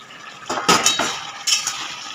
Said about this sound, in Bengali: এবার আমি ঢাকাটা খুলে দেব।